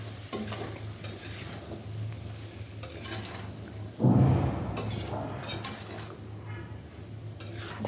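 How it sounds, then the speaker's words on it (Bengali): Beans, potatoes and dried lotia fish fry in a pan with a low steady sizzle, periodic stirring clinks and a louder burst of spatula scraping midway, with no talking. "ঢাকা দেওয়া ছাড়াই আমি বেশ কিছুক্ষণ ভেজে নেব, তারপর ঢাকা দিয়ে রাখবো।"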